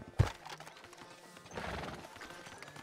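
In the Red Dead Redemption 2 video game, a horse stomps with a sharp hoof thud, followed by softer clip-clopping and a faint whinny amid game ambience.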